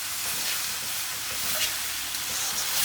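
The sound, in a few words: stirring vegetarian hoisin fillet pieces frying in pan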